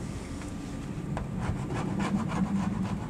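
A window stick scraping leftover vinyl striping and adhesive off a vehicle surface treated with adhesive cleaner: continuous close, gritty rubbing and scraping with faint repeated strokes throughout.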